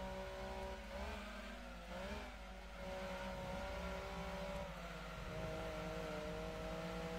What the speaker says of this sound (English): I'm fairly certain that sound I can hear in my ears probably has to be the turbo